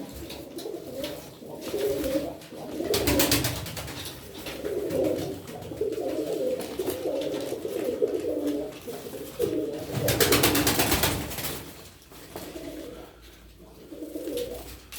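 Tumbler pigeons coo in low, repeated throaty calls throughout, with some brief rustling and scattered chirps mixed in.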